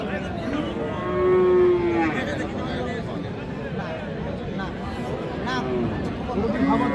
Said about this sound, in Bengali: আসলে এই যে গরুটি কিন্তু বসা আছে।